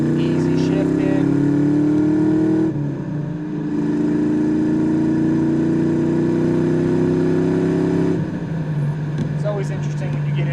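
A 1990 Ford Mustang GT V8 with Flowmaster exhaust pulls hard through the gears from inside the car, its deep droning tone climbing steadily, dropping briefly at two easy shifts, then rising again, loud and continuous.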